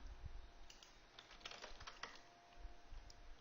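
Typing on a computer keyboard during a half-day trading seminar, a faint scatter of irregular key clicks in short bursts over a low room hum, fairly quiet and close.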